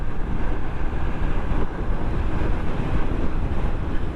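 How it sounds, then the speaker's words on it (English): Steady, roaring wind blast buffets the microphone while riding a Royal Enfield 650 Interceptor, a naked motorcycle with no wind protection, at motorway speed; a constant loud rush with no pauses and no talk. "being a naked bike, wind blast is overall, there's no wind protection"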